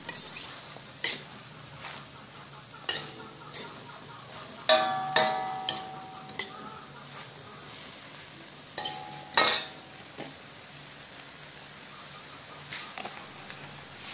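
Sprouted mung beans and pork being stirred with soy sauce in a pan, with scattered scraping and clinking strokes of a utensil over a faint steady sizzle, fairly quiet and close.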